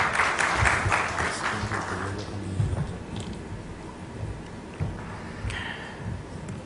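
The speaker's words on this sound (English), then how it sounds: "A round of applause for Mr. Pandey." Audience applause at a Goa conference session on financial inclusion as a UIDAI deputy director general joins the stage, loud at first then thinning, with a brief murmur of voices around it.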